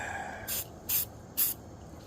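Three short hissing bursts of spray paint over bare metal on a car, evenly spaced and close, each lasting a fraction of a second against quiet background.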